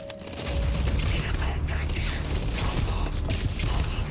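A shotgun being reloaded in Starfield, with mechanical clacks and ratcheting creaks over a dense, loud rumble of game background noise that runs through the whole stretch.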